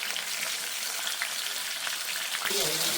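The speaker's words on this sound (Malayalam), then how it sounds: "ഇത് നമുക്ക് നന്നായിട്ട് ഫ്രൈ ആവുന്നിടം വരെ ഒന്ന് വെയിറ്റ് ചെയ്യാം" Garlic and green chillies fry with chicken in a hot pan, a dense, continuous sizzle with light stirring scrapes, close and steady, with a brief shift near the end.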